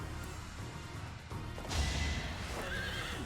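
A heavily armoured horse in the video game Fire Emblem: Three Houses neighs and whinnies over clip-clopping hooves, loud and close, with a brief crash-like impact in the game mix and no talking.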